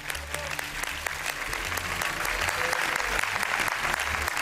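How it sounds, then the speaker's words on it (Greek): A studio audience applauds, steady dense clapping held at an even level throughout, with a voice faintly underneath. "Ένα χειροκρότημα!"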